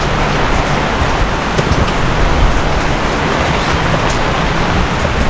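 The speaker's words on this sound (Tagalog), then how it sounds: "biglang lumakas yung ulan" Heavy rain pours down in a dense, constant hiss, loud and unbroken, with no voices over it.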